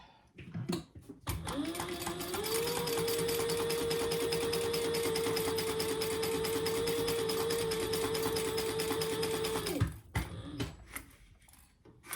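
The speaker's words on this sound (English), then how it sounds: "now we're going to sew that at the seam allowance in the pattern" A sewing machine stitches a seam in one long steady run, a close buzzing whir with fast rhythmic clatter lasting about eight seconds, framed by brief handling clicks before and after.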